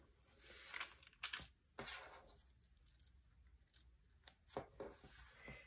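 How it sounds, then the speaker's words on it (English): Tracing paper peeled carefully off a drawing: quiet, close crinkling and tearing rustles in short bursts, with pauses of near silence between them. "I'm going to carefully peel off my tracing paper"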